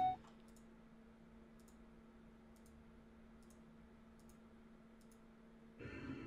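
Faint, evenly spaced clicks while a dial is turned by right-clicking in Minecraft, about one per second over a low steady hum, ending in a burst of broader noise.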